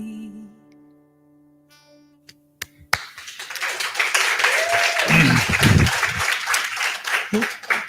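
A round of applause at a live spiritual service, breaking out after a few soft chime-like tones and a quiet lull, then swelling into steady, loud clapping from the gathered congregation.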